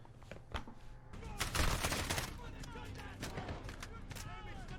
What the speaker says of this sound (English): So now we're in a firefight.